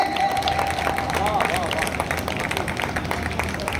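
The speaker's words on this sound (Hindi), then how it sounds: "एक बार जोरदार तालियां बजाए डॉक्टर रजनी चौहान जी के लिए।" Audience clapping for poet Dr. Rajni Chauhan at a kavi sammelan during the Bhagirathi Mahotsav in Haridwar: steady, dense applause mixed with crowd murmur and a faint sustained tone, continuous throughout.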